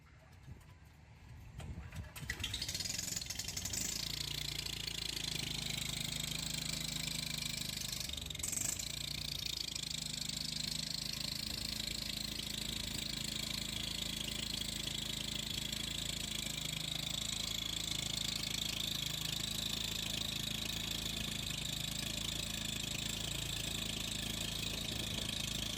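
An internal combustion engine with a generator attached starts up and then settles into a steady, continuous running drone at moderate distance.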